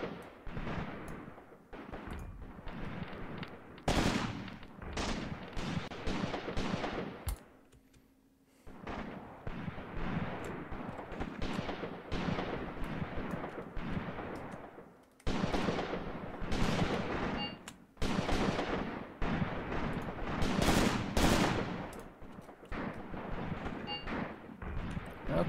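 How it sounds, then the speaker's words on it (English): Sustained battlefield gunfire in Graviteam Tactics, set in Shilovo 1942, with rapid rattling bursts and heavy booms packed closely together, loud and near, broken by a brief lull partway through and no speech. "We are under fire."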